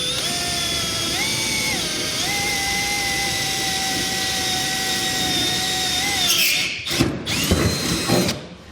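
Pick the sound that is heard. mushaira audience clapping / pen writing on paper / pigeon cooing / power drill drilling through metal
power drill drilling through metal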